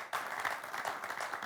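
Audience applause for Eugène Kabongo, a former Congolese football star, at a sports show: a brief, dense burst of clapping that holds steady and fairly loud throughout.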